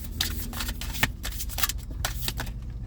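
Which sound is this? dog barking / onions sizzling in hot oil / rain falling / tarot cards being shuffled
tarot cards being shuffled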